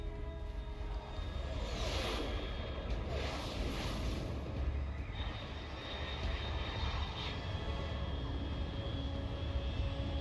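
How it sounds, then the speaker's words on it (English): Aircraft engine droning steadily overhead in Metal Gear Solid Delta, a continuous low roar with a faint whooshing swell, fairly quiet throughout. "Unidentified aircraft detected."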